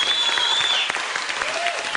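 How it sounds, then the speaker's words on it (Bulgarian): Applause from a live audience at a Bulgarian music performance, a dense, steady clatter of many hands clapping at close range, with a faint whistle and some voices mixed in. "Колегата Добри, аплодисменти за него и за господин Трифонов."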